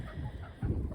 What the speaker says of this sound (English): The chickens can still get out